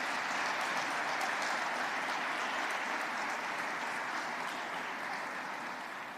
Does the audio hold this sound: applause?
yes